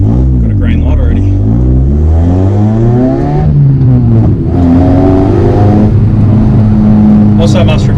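A race car drives fast on a public road, its engine revving up and down through gears in a loud, close in-car roar while someone talks over it.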